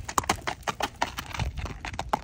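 Hooves of a five-year-old, 15-hand Haflinger-Saddlebred cross gelding loping, a rhythmic series of clip-clop beats, moderately close and clear with no talk over them.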